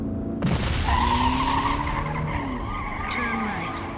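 Car tires skid and squeal loudly across pavement, with a sharp onset followed by wavering screeches and engine noise for a few seconds.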